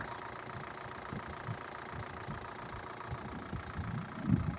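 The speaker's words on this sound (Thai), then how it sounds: "เครื่องเสียงนิ่มมากนะครับ นี่ เครื่องดี เครื่องแน่นๆ" Isuzu D-Max 2.5 diesel engine idling steadily with a low, even rumble, a single slightly louder knock near the end.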